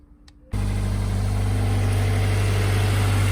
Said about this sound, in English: let's run the motor for like 2 minutes just so it gets hot